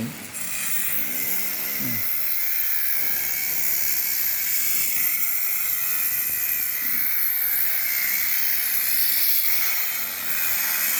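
Loud, steady high-pitched whine of drilling a drainage hole through a pipe runs through the whole clip, with brief engine-like rumbles near the start and end.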